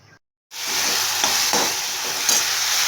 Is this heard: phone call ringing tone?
no